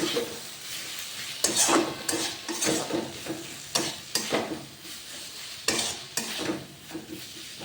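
Spices being stirred and fried in a pan for restaurant-style masala mushroom, with scraping spatula strokes at an uneven rhythm over a steady sizzle, close and alone without speech.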